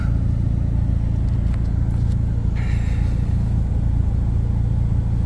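A car with a loud full exhaust drives past during a traffic stop, its steady low rumble constant and fairly loud throughout, with no talk.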